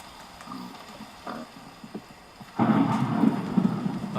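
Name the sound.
thunder in the video game Minecraft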